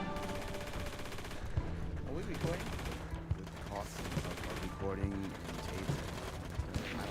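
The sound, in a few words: gunfire in the video game Hell Let Loose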